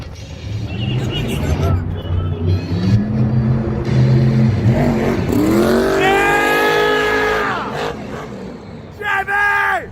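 The Avenger monster truck revs its engine in a stadium, a loud rising and falling roar that climbs steeply in pitch midway, over crowd noise and an announcer talking.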